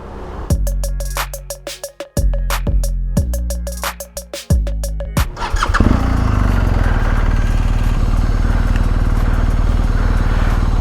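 A motorcycle's starter cranks in several short bursts before the engine catches, then settles into a loud, steady running note close by.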